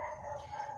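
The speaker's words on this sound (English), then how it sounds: "apologies for the dogs barking" Dogs barking and howling in the background during a spiritual teaching session, a fairly faint, continuous canine sound with no speech over it.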